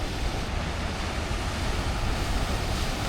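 Sea waves crash and splash over a person on a shoreline, a steady loud roaring wash of surf with wind buffeting the microphone, with no voices.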